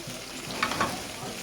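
Onion and soaked rice sauté in a pot with a soft, steady sizzle, punctuated by a couple of quick stirring scrapes over about a second and a half.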